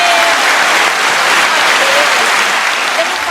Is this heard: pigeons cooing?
no